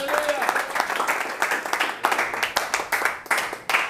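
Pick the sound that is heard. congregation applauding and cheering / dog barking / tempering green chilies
congregation applauding and cheering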